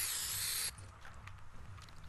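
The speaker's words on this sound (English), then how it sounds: "I have the X-Men spray paint." A spray paint effect from the Fortnite video game: a loud, bright hiss lasting under a second, cut off sharply, then faint clicks and a quiet hum.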